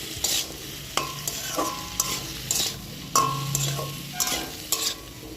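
Food frying in a pan with salt and turmeric, a steady close sizzle broken by repeated sharp scrapes and stirs of a utensil against the pan, with no talking.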